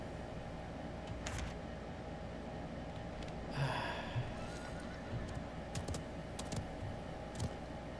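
A horse in the Realm Royale video game gives a brief neigh amid soft, scattered hoof clicks over a low, constant game background, all fairly faint.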